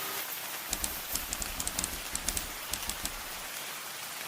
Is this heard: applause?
no